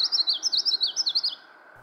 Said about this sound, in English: made sure to check on that common yellow throat I saw the other day